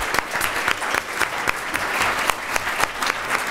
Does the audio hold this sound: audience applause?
yes